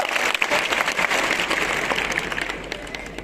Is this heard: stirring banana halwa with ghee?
no